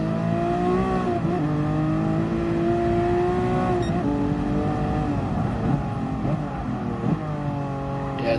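A racing car in GT Sport lapping the Bathurst circuit, its engine droning steadily with rising and falling pitch through gear changes, loud and continuous for the whole stretch.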